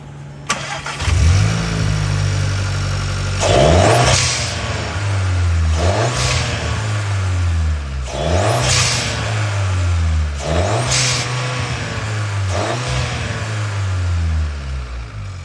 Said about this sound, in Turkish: Egzozun sesini kapatıp duyabilirsiniz.